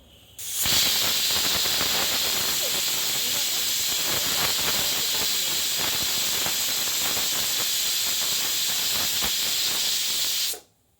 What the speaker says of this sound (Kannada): ಇವಾಗ ಸ್ಟೀಮ್ ಬಂದಮೇಲೆ ವೆಯ್ಟ್ ಹಾಕಿ ಒಂದು ಸರ್ತಿ ಕೂಗಿಸ್ಕೊತೀನಿ